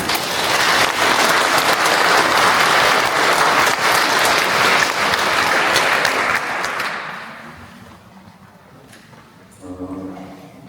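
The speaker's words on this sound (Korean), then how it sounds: "다시 한번 박수 부탁드립니다" A large congregation applauds a speaker at a Catholic church training gathering, a loud, thick roar of clapping that holds steady for several seconds, then fades out and gives way to a voice speaking.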